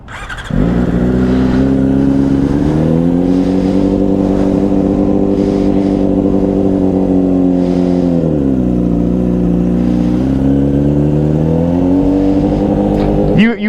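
Motorcycle engine revving steadily and loudly during a riding lesson, holding a strong idle-to-mid rev with a dip and recovery midway, continuous throughout with no talk over it.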